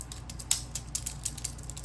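A Roxon Flex multitool is shaken by hand, giving a quick run of loose, light clicking rattles in an irregular rhythm, close and fairly quiet.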